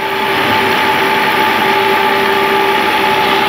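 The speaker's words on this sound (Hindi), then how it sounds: "हम इस ड्रिलिंग मशीन का यूज़ करते हैं, जिसमें हम बीट लगाते हैं डिफरेंट डाया का।" A drilling machine fitted with a bit boring holes into a concrete column or beam to take steel bars: a loud, steady, grinding roar with sustained tonal whine, continuous and close, no talk.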